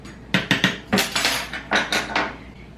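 A spoon clinks and scrapes against a pot as butter is stirred into homemade tomato soup from homegrown tomatoes, giving about eight sharp, close metallic knocks in an uneven rhythm.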